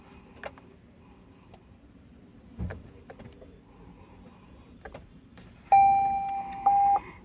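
Two loud electronic alarm beeps from a Grand Vitara hybrid's dashboard cluster, steady pure tones, sound near the end after quiet clicks and taps, with no talking.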